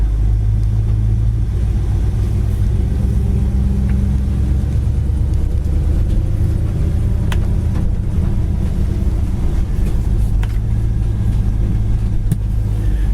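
A 1967 Oldsmobile Cutlass convertible's V8 idles steadily in drive, a close, continuous low rumble with a slight surge near the end and no talk over it.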